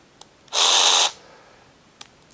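A battery-powered ratchet running briefly at full speed while taking off 3/4 inch (19mm) nuts and bolts, one loud half-second whir followed by quieter small clicks and taps, with no talking.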